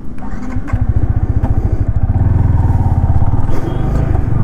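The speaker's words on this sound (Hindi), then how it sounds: "सो बाइक को अभी करते हैं राइड।" A Yamaha R15 V4 motorcycle with a quick-shifter is ridden, its engine a loud, steady rumbling drone with a choppy pulse that builds slightly as it pulls away.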